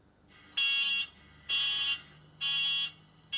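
A car's warning alarm chimes during a cold engine start on a winter day, three loud, even electronic beeps repeating in a steady rhythm close by, with no talking.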